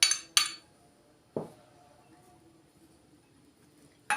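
Spoon clinking against a bowl while stirring a filling of white cheese, fresh curd cheese, kashar cheese and olives, a few sharp metallic taps spaced by quiet pauses, close and clear with no talking.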